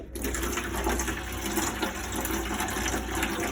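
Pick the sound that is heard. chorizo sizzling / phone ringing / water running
water running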